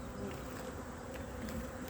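Steady, droning buzz of many honey bees close by at a small five-frame hive, continuous and even throughout with no voices.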